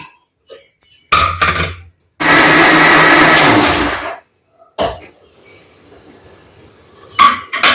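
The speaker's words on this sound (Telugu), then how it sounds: "దీన్ని మిక్సీ పట్టుకోవాలి కొబ్బరి బియ్యం" A mixer grinder blends soaked coconut and rice: a loud, close motor whir runs for about two seconds after some clinking of the jar, followed by quieter handling knocks.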